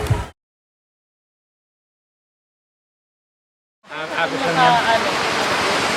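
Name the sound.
river water flowing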